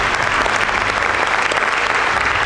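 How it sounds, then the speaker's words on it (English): Audience applause at a Fellowship of Christian Athletes breakfast at Ole Miss, a dense, loud burst of clapping that runs steadily through the short clip without talk. "That's worth a round of applause, too."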